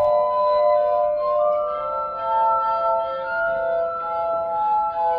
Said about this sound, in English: The glass harmonica uses a series of glass bowls of graduated size to also produce tones by means of friction.